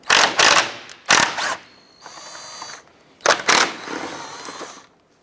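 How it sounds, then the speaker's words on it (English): A ratchet wrench works a 10mm bolt loose from the front corner piece by the headlight mounting bracket of a 2011-2018 Ram 1500, in three close bursts of rapid clicking separated by short pauses. "Gonna remove this front corner piece here, 10mm bolt."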